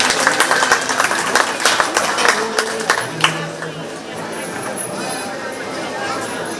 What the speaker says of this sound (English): Let's give her a round of applause as she exits the ring.